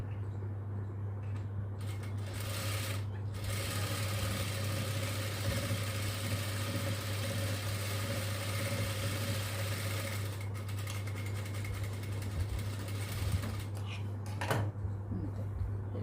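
Sewing machine stitching a baby frock, running in a steady continuous whir with a constant low motor hum, briefly pausing and restarting a few times.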